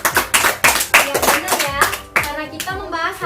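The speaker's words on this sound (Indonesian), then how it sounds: "Tepuk tangan untuk Dela." Classroom applause for a fifth-grade student: a burst of rhythmic group clapping from children, close and lively, fading into looser scattered claps over a few seconds, with faint voices beneath.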